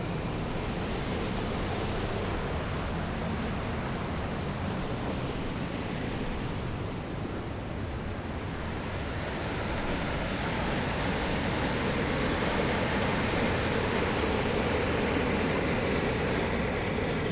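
Wild waterfall swollen after heavy floodwater, a broad, steady roar of rushing water that fills the scene without let-up, heard from close by with no talking.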